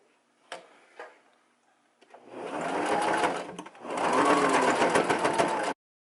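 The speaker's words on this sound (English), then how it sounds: "I'm going to feed this through the machine, and then I'm going to begin sewing" A sewing machine stitching a wig topper made from a hair bundle and closure runs in two loud, steady bursts of rapid stitching, with a short pause between them, after a few isolated clicks at the start.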